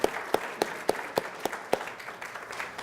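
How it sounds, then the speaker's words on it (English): Audience applause at a city's annual State of the City address, a soft wash of many hands clapping in a hall with a few sharper, regularly spaced claps standing out close to the microphone. "This deserves a round of applause."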